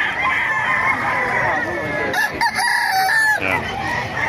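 A rooster crows loudly and close by at the Bocaue market, a long drawn-out call with clucking fowl and other birds around it, and voices faintly in the background.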